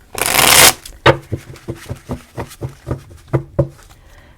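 Note cards are handled up close, starting with a loud papery riffle and followed by a run of crisp, rhythmic flicks and taps as the cards are sorted one after another.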